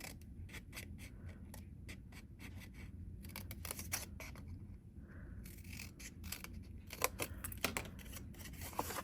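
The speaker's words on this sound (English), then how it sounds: "We're going to cut this triangle out." Scissors snip through a paper card as a triangle is cut out, a close series of short crisp cuts in an irregular rhythm with brief pauses, no talking.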